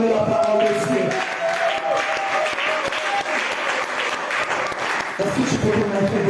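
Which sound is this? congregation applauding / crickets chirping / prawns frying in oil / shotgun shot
congregation applauding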